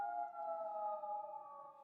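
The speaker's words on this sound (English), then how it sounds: "It's a very loud ambulance, I think it is." Ambulance siren wailing steadily with two strong sustained tones, loud and close, sliding slightly as it passes, with no voices over it.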